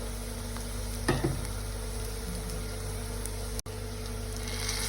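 Marinated prawns frying in a pan give a steady, close sizzle, with a brief stirring clatter near the start and a sharp tap later.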